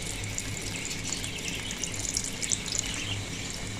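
Sweet tikkis frying in hot ghee over a low flame, a steady close hiss and crackle of sizzling oil with faint bubbling pops, heard alone without talk.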